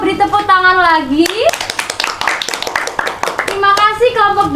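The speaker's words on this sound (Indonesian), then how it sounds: "Beri tepuk tangan lagi" A classroom gives a lively burst of hand clapping for a group presentation during a social studies microteaching session. Raised voices call out before and after the clapping, which lasts about two seconds.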